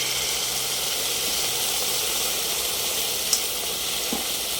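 Sardines sizzling steadily in a hot pan, a constant bright hiss of frying with a couple of small pops and spatters near the end.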